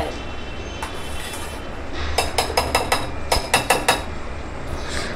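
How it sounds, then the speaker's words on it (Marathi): A whisk beats fermenting breakfast batter in a bowl with quick, rhythmic clinking strokes that come in tight bursts of taps, moderately close and fairly loud. "दोन ते 3 मिनटं हे एका दिशेने असं छान फेटून घ्यायचं आहे"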